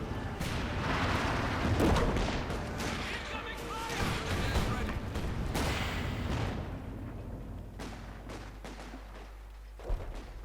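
Mortar and artillery fire rumble in a Company of Heroes 2 1v1 match, with dense overlapping booms and distant blasts rolling on almost without a break under a commentator's voice.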